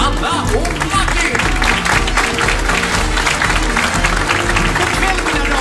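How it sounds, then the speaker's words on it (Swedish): Audience applause greeting the revue directors at the opening of a theatre revue in Kalmarsund, steady and full throughout, with a voice speaking over the clapping. "Ge en stor applåd till kvällens revydirektörer Anna och Martin."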